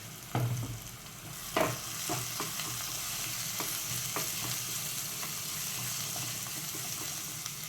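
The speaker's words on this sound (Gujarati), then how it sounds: "થોડોક હું અંદર મસાલા આમાં રેડીશ આમાં નાખીશ અને બીજો પેલી બાજુ એડ કરીશ" Ground masala poured into a frying pan and stirred while making batata vada, with a steady low sizzle and scattered scraping clicks of the spoon against the pan, moderately close and without talk.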